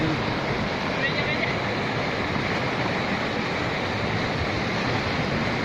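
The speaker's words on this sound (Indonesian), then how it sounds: "air laut tsunami kecil-kecilan" Sea water surging ashore like a small tsunami at Gili Trawangan, Lombok, with boats nearby: a steady, loud wash of surf and rushing water that fills the whole stretch without a break.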